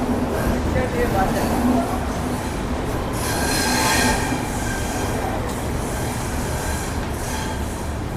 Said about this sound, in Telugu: మన ట్రైన్ వచ్చేసి ప్లాట్ఫామ్ 5కి అయితే వచ్చింది